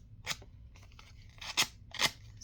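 Scissors snip through paper in three crisp, close cuts, the last two coming in quick succession.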